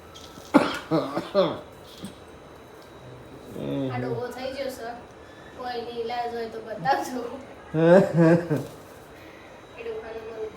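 A few sharp coughs near the start, followed by a person talking with brief pauses.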